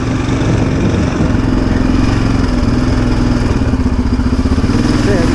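Yamaha Raptor 700R ATV engine running at low trail speed, a steady near, loud mid-pitched engine drone with rhythmic chugging and some clatter throughout, no pauses.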